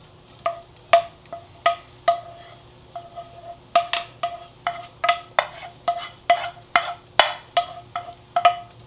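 Beans and onions being stirred together in a pot, giving a steady series of sharp clinks and scrapes of a utensil against the pot, about two per second, close and fairly crisp over a faint low hum.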